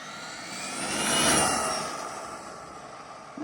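Traxxas XO-1 RC car with a 20-tooth pinion, its electric motor whining loudly as it accelerates and the tires spin, a steady high rush swelling to a peak and easing off, with no talk.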